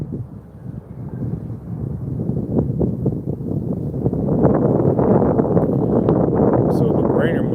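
Wind at the Rock Creek rail junction rumbles across the microphone in a continuous low roar that strengthens partway through, with a voice speaking over it.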